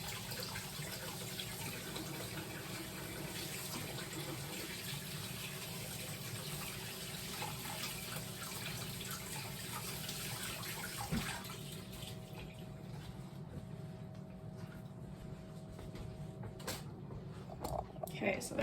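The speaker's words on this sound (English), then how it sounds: "So I'm gonna rinse my hands" Tap water runs steadily into a kitchen sink as hands are rinsed, a faint continuous hiss that thins out near the end, with a voice talking over it.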